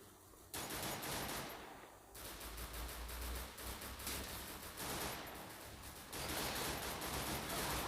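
Gunfire in the video game Free Fire comes as dense, rapid bursts of shots. It stays fairly quiet overall, with short pauses between volleys and no talk.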